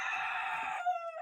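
A homestead rooster crows once, close and clear, in a single brief cock-a-doodle-doo that drops in pitch at the end.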